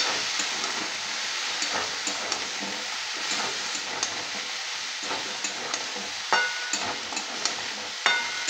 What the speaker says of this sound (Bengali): একটু নেড়ে চেড়ে ভেজে নিতে হবে